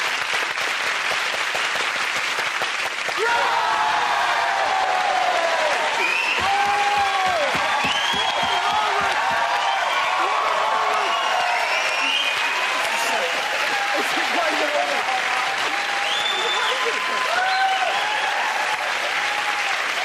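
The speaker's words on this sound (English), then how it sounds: "Everyone clap" Studio audience at a British comedy panel show breaks into loud, sustained applause with cheering and whoops, a dense continuous roar of clapping lasting the whole stretch, with voices calling out over it.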